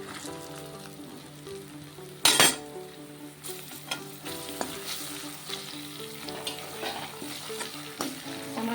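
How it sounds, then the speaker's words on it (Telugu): Onion, ginger and garlic pieces, then tomato pieces, frying in a pan, giving a steady close sizzle with a sharp clatter burst and scattered scraping stir sounds, no voices. "ఉల్లిపాయ ముక్కలు అల్లం ముక్కలు వెల్లుల్లి ముక్కలు ఇవి పచ్చివాసన పోయేంత వరకు ఎర్రగా వచ్చేలాగా ఫ్రై చేసుకుందాం"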